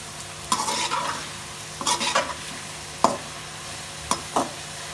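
Arvi (taro root) pieces that have been frying in a pan, with a steady soft sizzle and several brief scraping stirs from a spatula, close up and without talk.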